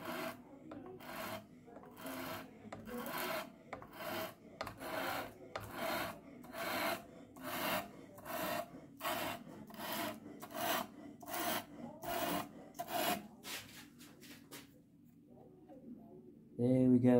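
A knife tip drawn repeatedly across a sharpener as part of a JRK knife-in-box sharpening step, giving steady rhythmic rasping strokes, close and fairly loud, about two per second, easing off near the end.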